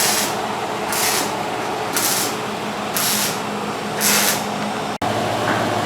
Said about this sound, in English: He's welding on the back of Helleanor